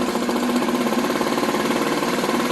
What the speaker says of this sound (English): Bring the idle up so she can stay running